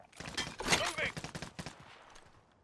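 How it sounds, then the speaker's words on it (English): Rapid gunfire in a Call of Duty: Modern Warfare 3 match, a burst of sharp close shots and quick rattling fire that thins into scattered pops and fades out. "Didn't see who was shooting, mate."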